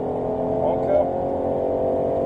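Ford Mustang GT500 with 760 hp accelerating hard on the Nogaro race circuit, a steady loud engine roar heard from inside the car with a driving coach talking over it.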